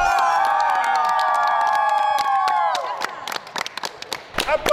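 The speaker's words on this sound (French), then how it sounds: "selon les applaudissements, notre grand champion de la classe des casseroles, Yannick!" Crowd cheering and shouting for a cooking-show champion, loud and sustained at first, then breaking into scattered claps and shouts.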